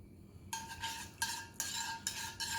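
A metal spoon scraping coconut oil out of a jar into a hot pan while cooking red coconut curry: four distinct scraping strokes, each a bright metallic rasp with a faint ringing tone, close and quiet.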